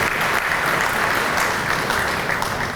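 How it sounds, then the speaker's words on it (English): Audience applause at the Cleveland International Hall of Fame ceremony, a continuous dense wash of clapping from a large crowd, loud and even throughout. "Let's give them a round of applause for really growing to put this together."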